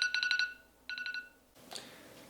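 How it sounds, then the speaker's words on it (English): A phone alarm sounds at the end of a break: two quick bursts of bright electronic beeps, then a softer rustle, fairly near with no talking. "That's my alarm telling me my break is over."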